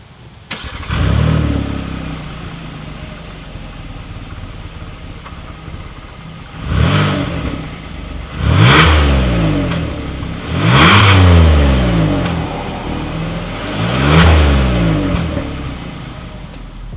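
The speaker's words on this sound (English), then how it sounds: "here is that exhaust clip." A 2020 Hyundai Palisade SUV's engine starts, then revs four times through its chrome-tipped exhaust, each rev rising sharply and settling back to a steady idle, loud and close.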